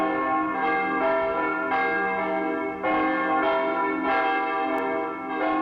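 Church bells ring out for Easter, several overlapping bell strikes sounding in a steady rhythmic peal with long ringing tones, loud and alone with no talk.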